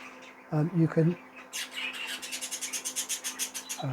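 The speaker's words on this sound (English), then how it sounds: "So there are the two Zeba Finches, as I say, in a Zeba Finch show cage." Two normal-variety zebra finches in a show cage give a quick run of buzzy, rasping pulses, with a few nasal squawk-like calls before and after.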